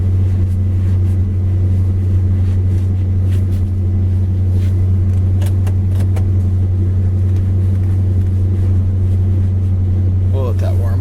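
A warmed-up 1967 Plymouth Fury engine idles low at about 500 rpm, a loud, steady deep rumble that holds evenly throughout, with someone talking faintly over it.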